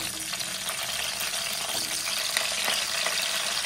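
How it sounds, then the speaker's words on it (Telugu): Cut eggplant pieces frying in hot oil make a loud, continuous close sizzle with scattered pops and crackles throughout, with no voices. "ఆయిల్ వేడైన తర్వాత ఇందులో మనం కట్ చేసి పెట్టుకున్న వంకాయ ముక్కల్ని కూడా వేయాలి."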